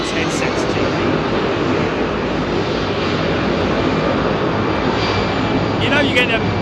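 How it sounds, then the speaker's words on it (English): Rolls-Royce Trent 800 engines of a Boeing 777 roar at Heathrow in foggy conditions, a loud continuous rumbling drone with brief faint voice-like bursts near the start and end. "That's the sound that the Trent 800 makes."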